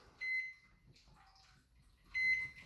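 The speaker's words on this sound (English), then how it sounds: "We're gonna throw that bad boy in the microwave." A microwave oven heating a prison-style pizza bowl topped with sriracha glaze sounds two distinct pairs of electronic beeps, at the start and near the end, with a low appliance hum and faint clatter in between.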